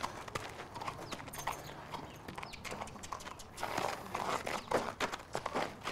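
A horse takes a few steps forward and then backs up, its hooves clip-clopping in short uneven groups on a hard surface, quiet and close with no talk.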